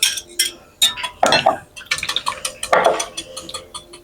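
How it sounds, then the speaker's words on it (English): Milk, beaten egg and oil being stirred together in a bowl with a utensil, clinking and scraping strokes in an irregular rhythm, close and fairly loud. "Now I'm going to mix the milk and the beaten egg and the oil together."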